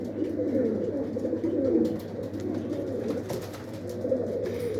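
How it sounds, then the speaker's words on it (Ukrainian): Large pigeons cooing softly in a steady, low murmur, several birds close by near nesting boxes, with a constant background hum. "Є такі масивні в мене голубочки, даже більші за голубів."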